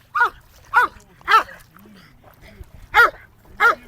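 A dog barks five times in a loose rhythm, sharp and fairly close, with a low hum of background noise between the barks.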